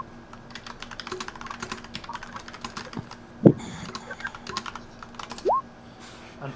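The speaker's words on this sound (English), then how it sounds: "I'm typing to be less distracting" Close keyboard typing in quick irregular bursts of clicks, fairly quiet, with a sharp thump near the middle and a brief rising squeak near the end, no speech.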